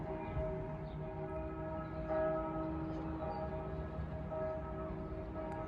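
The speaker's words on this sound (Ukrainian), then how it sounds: "Без 15 7 вечора дзвонять дзвони." Church bells ringing at quarter to seven in the evening in Heidenheim an der Brenz, heard as a sustained, blended peal of overlapping tones from a moderate distance with faint outdoor ambience.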